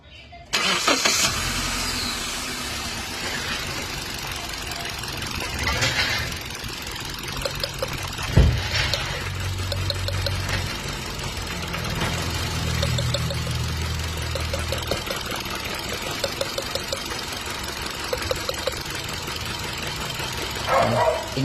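A Hyundai Accent with a check-engine fault, suspected ignition coil, cranks and starts, then idles with a steady low rumble and occasional irregular knocks; people talk nearby and a dog may bark.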